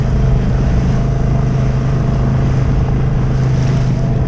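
A motorboat pounds through rough, lumpy sea waves off the Isle of Wight, a steady loud engine drone mixed with wind and water rush throughout, no talking.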